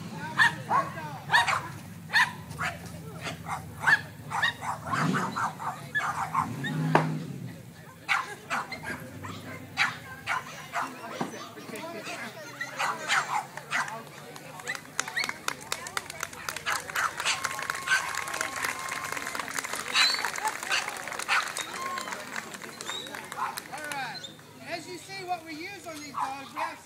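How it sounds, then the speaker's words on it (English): A police K9 dog makes barks, whimpers and yips during a training demonstration, with repeated bursts through a noisy outdoor scene while people talk nearby. "Now we're going to use the dog."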